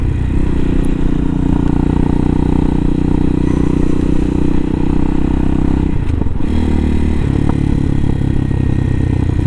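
A 2020 CSC TT-250 motorcycle rides along a road with a loud, continuous engine drone and wind roar close to the microphone. The engine pitch shifts briefly partway through as the bike changes speed.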